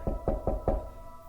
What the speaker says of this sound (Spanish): llamaron a la puerta de la calle